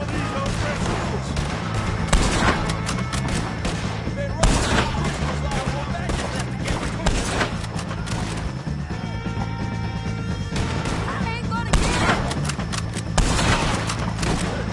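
Rapid, sustained gunfire from O'Driscoll gang shootouts in Red Dead Redemption 2, dense volleys and bursts of shots cracking continuously over a backing of game music, with a few heavier impacts, loud and close throughout.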